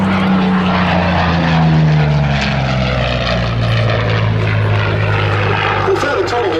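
Curtiss P-40C Warhawk at the Duxford Battle of Britain Airshow, its propeller engine droning steadily and loudly as it passes, pitch sliding downward, with a voice talking over it.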